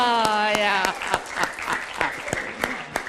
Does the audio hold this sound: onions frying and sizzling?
no